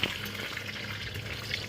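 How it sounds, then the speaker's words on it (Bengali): Nuts fry in hot oil in a pan while making a flattened-rice pulao, giving a soft, steady sizzle at low level with no talking. "আমি বাদামগুলো ভেজে নেব।"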